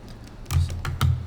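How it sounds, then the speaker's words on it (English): Quick bursts of keyboard typing, a few clustered keystrokes close by, with no talking. "I see Lang actually typing."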